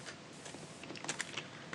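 Quiet, close computer keyboard typing as a short string of light key clicks in an irregular rhythm, with a couple of sharper taps near the end and no voices.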